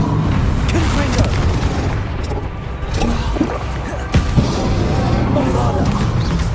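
A Confringo spell explosion in Hogwarts Legacy rolls out as a dense, loud booming rumble, with a few sharper blasts layered into a continuous battle din.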